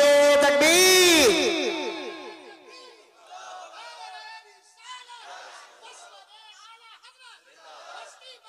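A crowd at a Ramzan naat gathering in Bareilly roars back a loud, multi-voiced chant in answer to the Takbir call, swelling strongly for about two seconds before fading into scattered crowd voices and chatter.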